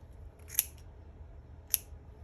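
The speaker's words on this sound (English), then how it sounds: "I'm now going to take my scissors and I'm going to cut them into shorter pieces" Two crisp, quiet snips of scissors cutting a small bundle of twine into shorter pieces, spaced about a second apart over a faint low hum in a craft workspace.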